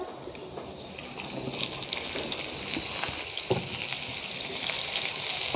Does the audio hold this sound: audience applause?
no